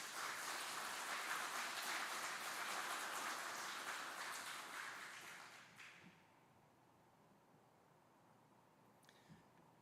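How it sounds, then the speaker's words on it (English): Sustained applause from a graduation ceremony audience honoring drill sergeants and instructors, a broad crowd of clapping hands that fades out after about six seconds into a quiet hall with a few stray claps. "Please join us in giving a round of applause to these outstanding drill sergeants and instructors."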